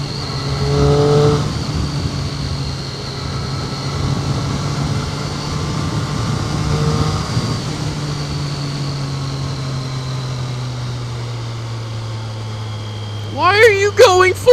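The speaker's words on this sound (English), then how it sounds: "Ah, traffic!" Passing car traffic on a road at Land Between the Lakes, a steady engine drone with vehicles sweeping by at moderate distance, under a brief bit of talk near the start and end.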